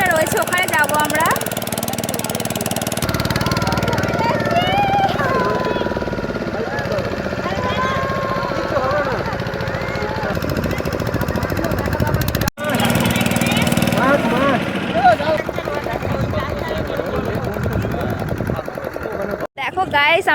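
A motor boat engine drones steadily on a sea trip to Talsari beach, loud and continuous with a rattling chug, while voices speak over it.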